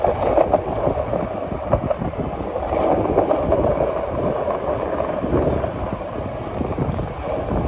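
Rail traffic inside Penn Station at 34th Street in Midtown Manhattan, New York, where subway, Long Island Rail Road and New Jersey Transit trains run, makes a steady, dense rumble with scattered clatter throughout, fairly loud and continuous with no talking.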